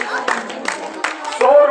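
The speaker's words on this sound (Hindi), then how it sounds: "भाई बच्चे ताली जरूर बजाएं।" Children clap at a Ramlila stage performance, a short close burst of claps mixed with a voice speaking over it.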